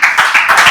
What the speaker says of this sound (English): give a big round of applause to Toastmaster Fatima